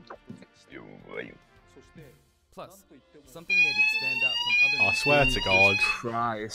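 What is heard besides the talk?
fire alarm ringing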